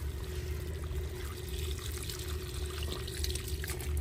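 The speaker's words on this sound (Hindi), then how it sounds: "इसमें पानी मिट्टी डाल दो" Water is poured into a hole together with soil during planting work outside at a village home, making a continuous gurgling, trickling flow at moderate loudness that runs for several seconds without speech.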